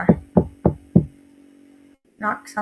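Four sharp, evenly spaced knocks on a door ring out close and loud, followed by a short pause before a voice starts speaking.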